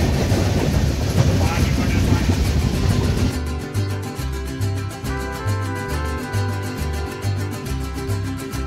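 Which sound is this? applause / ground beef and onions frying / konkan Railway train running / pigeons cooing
konkan Railway train running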